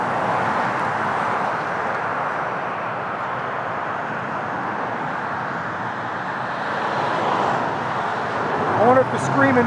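A Walton County Sheriff patrol car pulls in nearby, its engine and tyre rumble a steady roadway hum in the open air, swelling slightly near the end.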